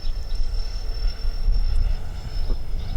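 A 3D-printed RC airplane flies at half throttle, its engine a steady, fairly loud drone with a thin high whine that holds throughout.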